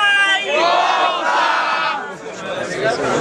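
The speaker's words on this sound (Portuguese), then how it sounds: "Barulhos, barulhos pra quem gostou das rimas do Brenos" A live crowd at a freestyle rap battle among students in Guarulhos, São Paulo, roars and shouts loudly and steadily throughout, with many overlapping voices cheering together.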